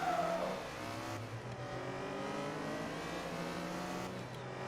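Vauxhall VX220 (Opel-badged) race car engine in Forza Motorsport 2, droning and revving steadily through a race start with a brief high whine at the beginning, continuous and fairly loud.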